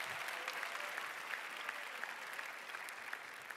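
Steady applause from a competition audience for the contestants at an evening pitch event, dense and continuous throughout with no break, fairly distant and moderate in level.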